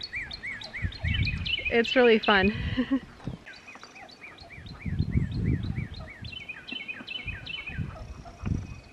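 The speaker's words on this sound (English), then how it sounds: "there's so many beautiful bird noises right now." Several birds sing and chirp in repeated bright phrases nearby, with a person speaking briefly in between.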